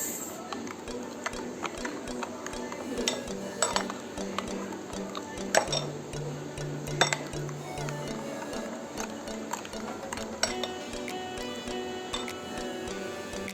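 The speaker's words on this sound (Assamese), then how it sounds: "2 চামুচ জোখৰ মাষ্টাৰ্ড অইল, আৰু এইখিনি কৰি ল'ম মই মিক্স।" Mustard oil being stirred into a fish marinade in a bowl, with repeated light clinks and scrapes of a spoon under steady faint background hum.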